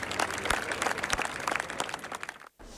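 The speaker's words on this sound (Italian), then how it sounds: "E poi la partenza, salutata da un timido applauso." Scattered clapping from a modest group, uneven and fairly close, breaking off abruptly near the end.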